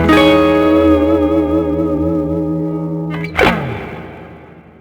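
An electric guitar chord through a Fractal Audio Fullerton plugin with light delay and big reverb rings out and slowly decays in a wash of reverb and delay, then a string slide or pick scrape briefly cuts in.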